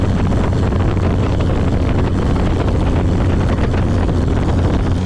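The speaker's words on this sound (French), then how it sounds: "elle fait un super bruit cette bagnole" A loud, steady engine roar from an old Simca 5 small car, with rumbling low tones and heavy wind buffeting, recorded close up from a camera mounted on the door while it drives along.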